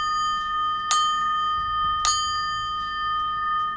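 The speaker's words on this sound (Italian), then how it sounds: "Intanto, in distanza, di San Donato si odono le campane." The church bells of San Donato strike midnight in the distance, with two loud clangs about a second apart, each leaving a long, ringing hum that fades slowly.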